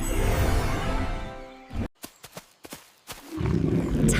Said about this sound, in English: Tiger roars in the jungle.